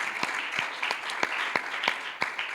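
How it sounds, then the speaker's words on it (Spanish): A church congregation applauds during a Sunday service, a steady wash of many hands clapping with a few sharper individual claps standing out, sustained throughout without speech. "De ese aplauso para el Señor."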